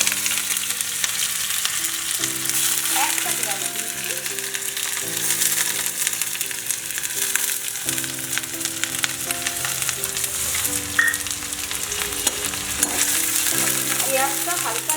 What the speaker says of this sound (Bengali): একটু আমি পেঁয়াজ দিয়ে আর চিংড়ি মাছ দিয়ে কোনো মশলা ছাড়া করছি